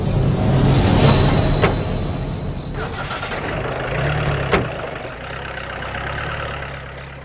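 A vehicle engine starts and rumbles as it pulls away, loud and close at first and then settling into a steady drone, with a sharp thud partway through.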